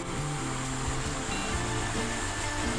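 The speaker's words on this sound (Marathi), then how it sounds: "खाली खाली झरा आहे जाऊन बघायला पाहिजे खाली मस्त इकडे असा झरा दिसतो वाहताना" A stream in the Konkan countryside flows somewhere below, a soft continuous watery hiss with a faint hum underneath, distant and steady with no talk.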